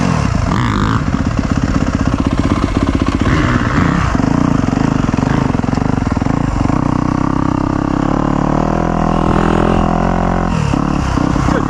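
A 2025 Yamaha YZ250F dirt bike engine runs loud and close the whole time, a steady rough buzzing drone with slight shifts in revs.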